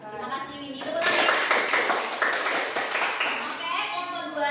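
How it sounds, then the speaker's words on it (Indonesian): Students in a classroom clap together after a group presentation, a brisk, fairly close burst of many hands, with children's voices at the start and end. "Tepuk tangan."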